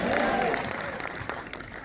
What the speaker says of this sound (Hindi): एक तालियां तो होना चाहिए ना न्यूट्रीलाइट के लिए